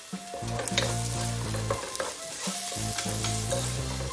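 Chopped onions sauté in a pan for leftover chapati noodles, giving a steady close sizzle broken by repeated scraping stir strokes throughout, with no talking.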